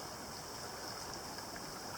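Sonoma Creek in the Sonoma Range of Pershing County, Nevada, flows with a steady, faint broadband rush of running water, continuous and without breaks, heard alone with no voices.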